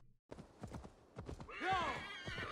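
Hooves clip-clop in a quick, uneven rhythm in the video game Assassin's Creed Valhalla, with a horse neighing loudly partway through, near and clear with no talk.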